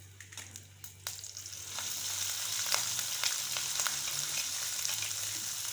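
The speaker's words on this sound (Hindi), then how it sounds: "ये देखिए ऑयल गर्म हो चुका है। अब जो हम इसमें चिकन को ऐड करेंगे।" Chicken pieces dropped into hot oil in a pan while making chicken kachori, giving a loud continuous sizzle with sharp crackles and spatters, intensifying after the first couple of seconds, with no talking.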